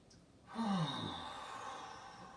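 A full, slow breath taken during a yoga hips and shoulders practice, a soft breathy sigh that swells in close and then trails off gently, with no talking.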